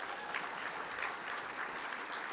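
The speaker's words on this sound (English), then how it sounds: "We can clap for that, yeah." An audience at a city state-of-the-city address in Fredericton applauds, a soft, even wash of clapping heard from a distance and lasting the whole moment without breaks.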